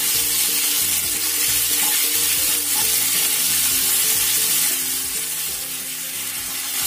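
Loud, constant sizzling of chicken stir-frying in a hot pan, with occasional scraping stirs of a utensil close by.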